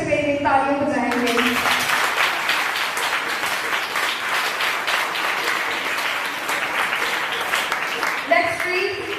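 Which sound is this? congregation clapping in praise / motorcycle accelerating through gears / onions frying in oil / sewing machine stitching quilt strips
congregation clapping in praise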